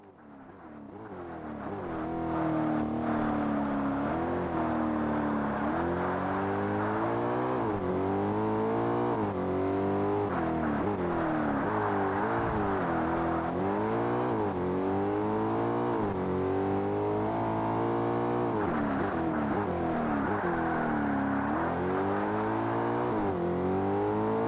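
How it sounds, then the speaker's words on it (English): A race car engine in the original Xbox game Forza Motorsport revs loudly and continuously, pitch rising and falling through gear shifts, with no talking. "Car sounds good though, I'll give it that."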